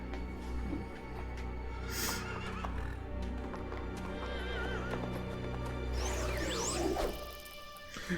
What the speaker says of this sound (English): The horses are scared.